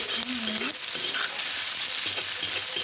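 Onions frying in a pan as the base for Polish cabbage soup, a steady close sizzle and crackle running throughout with a brief stirring scrape near the start, no talk.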